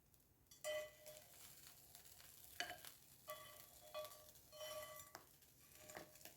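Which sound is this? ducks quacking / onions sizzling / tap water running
onions sizzling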